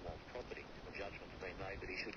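A pet bird calls out in Kosciuszko National Park with a few short, faint chirps and chatters over steady background noise.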